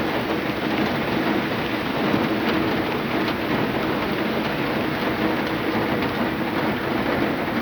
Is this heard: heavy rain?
yes